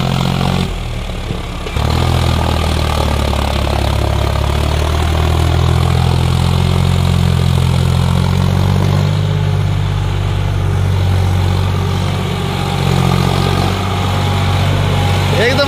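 A Mahindra 585 DI XP Plus tractor drives past, its low diesel engine droning steadily and loudly, rising after a brief dip, with someone talking over it.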